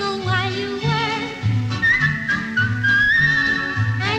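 Someone whistles a cheerful melodic tune in sustained wavering notes over a bouncy musical accompaniment with a steady rhythmic bass pulse, close and clear.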